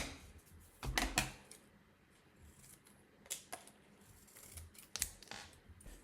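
Scissors snipping gift labels for Christmas presents, several crisp close cuts in small clusters with quiet pauses between.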